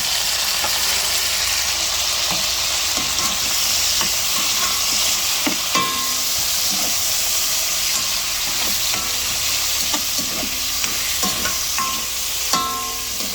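Pork belly liempo and pork ribs sizzle and fry steadily in a pan for adobong liempo, a loud continuous crackle with scattered pops and occasional scraping stirs.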